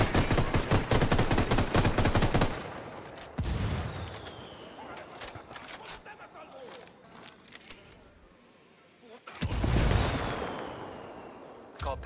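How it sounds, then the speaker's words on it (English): Mortar fire pounds in Ghost Recon Wildlands, with rapid gunfire rattling at the start, then heavy booming impacts and a loud blast near the end under a busy combat soundscape. "we got mortars incoming"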